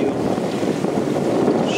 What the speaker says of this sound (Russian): Сейчас подняли парус и двигаемся